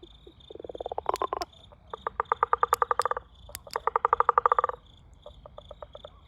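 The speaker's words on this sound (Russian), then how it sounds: "Вот тут на заднем плане можно услышать тюканье серебряных молоточков. Это как раз древесные лягушечки." Tree frogs call from a garden pond at night in rapid bursts of sharp, tapping clicks like little hammers, several rhythmic trains close by, with a steady high insect hum underneath.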